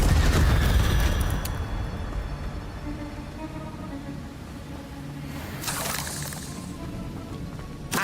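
In Hogwarts Legacy, the Incendio fire spell is cast during a Trials of Merlin puzzle: a whooshing, crackling burst of flame at the start, a softer lingering rumble, then a second bright fiery burst near the end. No speech is heard.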